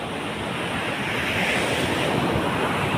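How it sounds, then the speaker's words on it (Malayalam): Sea waves surge and wash steadily at Alappuzha beach in Kerala, a continuous broad roar of surf mixed with gusting wind buffeting the microphone, loud and close throughout with no voices. "എത്ര കണ്ടാലും മതിയില്ലാത്ത ഒന്നാണ് കടൽ. സൂപ്പറല്ലേ കടൽ?"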